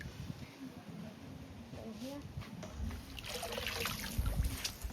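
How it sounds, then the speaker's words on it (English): Tap water pouring into a sea turtle holding tank at a turtle rescue centre, a steady splashing trickle that builds louder toward the end, with faint voices in the background. "we will turn on our tap just here that will send in loads more water into the tank"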